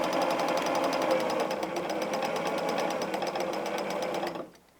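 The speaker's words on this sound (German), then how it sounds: "Ich verriegel und ich nähe diese andere zur Mitte zeigende Linie." A sewing machine runs steadily, stitching a line on a patchwork placemat, a fast even close-up rattle that carries on for about four seconds before stopping abruptly.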